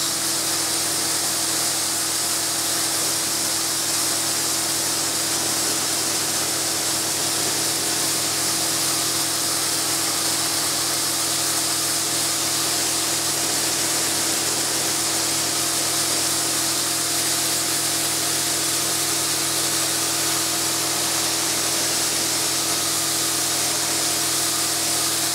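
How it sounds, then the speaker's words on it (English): A Bosch Aquatak 1200 Plus pressure washer with a fan nozzle sprays continuously with a steady, loud hiss of water hitting a surface, an unbroken wash of noise with no pauses. "this is a normal nozzle, the one that's got the spray and the fan."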